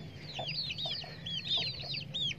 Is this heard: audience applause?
no